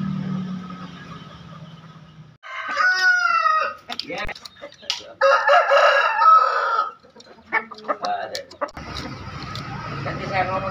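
Roosters crow in loud, drawn-out calls while hens cluck nearby in a coop; someone speaks briefly at the start and end between the calls.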